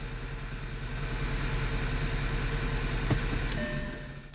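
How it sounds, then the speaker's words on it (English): An Audi B8 A4 engine idles with cylinder 1 misfiring, a steady close low rumble that swells slightly and then fades, with a couple of faint clicks and no talk. "Oh look, cylinder number 1's misfiring now."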